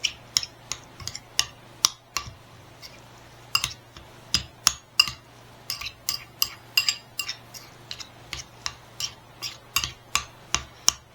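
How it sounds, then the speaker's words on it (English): Metal spoon knocking against a bowl while stirring a spicy burger mixture with beans, a quick irregular run of bright clinks and taps over a faint steady hum. "Mix this all in real good like this."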